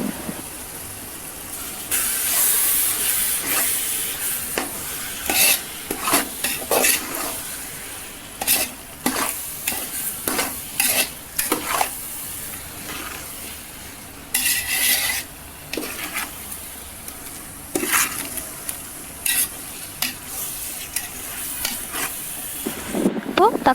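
Chili powder being stirred into a sizzling chicken biryani masala in a pan, with repeated scraping strokes of a spoon against the pot over a steady fry hiss, close and fairly loud, no talking.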